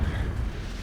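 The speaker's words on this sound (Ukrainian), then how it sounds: "все вибухає" A dense, rumbling blast of explosions in the video game BloodRayne fills the whole moment, heavy low booms rolling together without a break.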